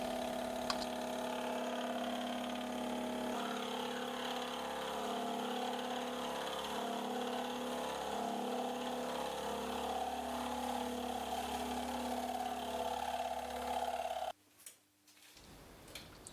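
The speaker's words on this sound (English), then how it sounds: "The next step was then to cut grooves into the hub to have cutting edges for the final gear cutting." Steady machine-tool whine from a Crouzet Valence TC125 cutting grooves into a worm gear hub, a continuous tonal hum with grinding texture lasting about fourteen seconds before the cut stops abruptly, leaving a quieter tail.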